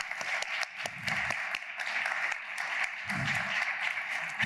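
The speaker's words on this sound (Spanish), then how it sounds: "Un aplauso para él, por favor." Steady applause from a conference audience, a dense wash of many hands clapping at moderate distance with a few sharper individual claps standing out.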